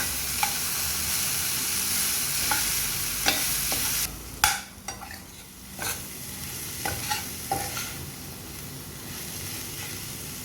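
Turmeric stirred into onions in a pan for yellow potato sabji: a soft continuous sizzle with scattered spoon taps and scrapes, a louder clatter near the middle, then quieter frying and occasional knocks.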